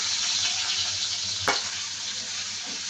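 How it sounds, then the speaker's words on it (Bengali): Chopped onion sizzles in oil left over from frying fish, a steady close frying hiss with one brief sharp click midway and no talking. "এই মাছ ভাজা তেলে দিয়ে দিচ্ছি আমি পেঁয়াজ কুচি।"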